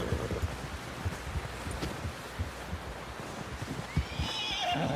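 Horse in the Red Dead Redemption 2 video game gives a whinny among soft hoof clip-clops and rustling, faint and moderately distant, with a sharper neigh near the end.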